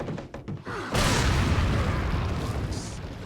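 Grenade explosion in Resident Evil 4, a sudden loud booming blast after a few faint clicks, followed by a broad rumbling roar that lingers and slowly fades.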